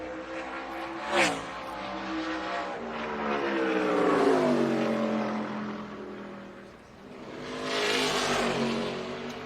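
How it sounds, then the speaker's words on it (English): NASCAR Xfinity Series race car on a qualifying lap at the ToyotaCare 250, its engine roaring loudly with rising and falling pitch as it sweeps past, then swelling again near the end, with no talk over it. "a quarter of the way through the qualifying session for these NASCAR Xfinity Series cars"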